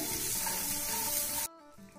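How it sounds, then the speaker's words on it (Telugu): Pistachios and raisins fry in oil on a medium flame, a loud hissing sizzle with faint stirring that cuts off abruptly partway through, leaving a quieter, thinner hiss and faint tonal hum. "ఇవన్నీ మీడియం ఫ్లేమ్ మీద వేగాలి."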